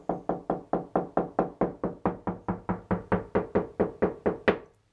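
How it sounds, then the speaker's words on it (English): Knuckle or finger knocking on a bathroom wall while probing for studs or wood blocking behind a pedestal sink location, about twenty evenly spaced, close, crisp hollow taps in a steady rhythm with no talk. "So you can knock with your finger."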